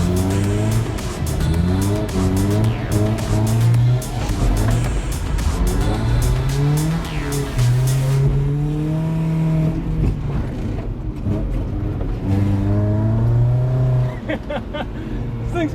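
BMW E36 drifting, its engine revving up and down in repeated surges with tire squeal, loud and close throughout as it transitions through turns.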